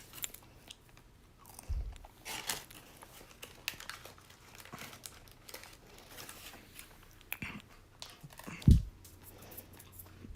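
A person and a dog chew crunchy fries close by, with irregular crisp bites and crunches and a few sharper snaps over quiet background.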